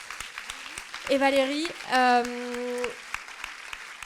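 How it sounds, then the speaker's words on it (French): Audience applause at a French talk on coercive control in supporting women victims of violence, a steady patter running through the clip beneath a speaking voice. "Je crois qu'on peut vous applaudir vraiment"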